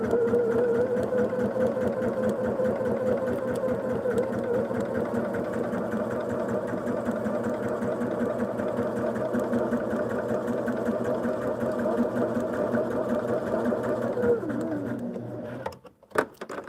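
A sewing machine runs a steady, fast, even stitch across a quilt block for about fifteen seconds, close and constant, then stops with a few small clicks.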